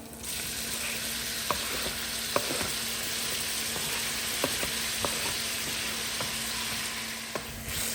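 Chopped tomatoes hit a hot pan while cooking a traditional Moroccan dish from Rabat, giving a steady, close sizzle with a few sharp scraping clicks from stirring and no talk.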